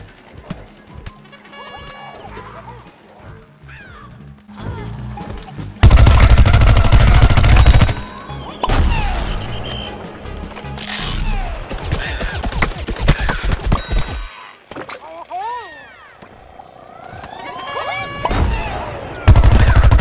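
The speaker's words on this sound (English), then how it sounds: "Now the Agent P has a suppressed, silenced pea cannon." Rapid bursts of pea cannon fire in Plants vs. Zombies Garden Warfare over a busy, cluttered mix of game sound effects, with loud dense stretches and quieter gaps.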